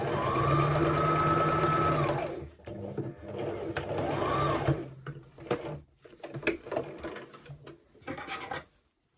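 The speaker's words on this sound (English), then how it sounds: "Do a wee back stitch and just sew down to where that seam is." A sewing machine runs a steady whirring stitch along the waistband seam of a tiered maxi skirt, pauses briefly to back stitch, then hums again before stopping amid fabric rustling and handling noises.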